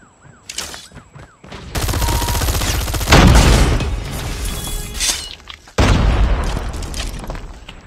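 A grenade goes off with a heavy, booming blast in Call of Duty Mobile during a Search and Destroy ranked match, set amid dense, continuous gunfire and followed by another sharp burst of firing.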